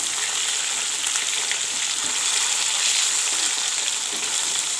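Fish fries in a hot pan at home, giving a steady, close crackling sizzle with small spits and pops and no talking.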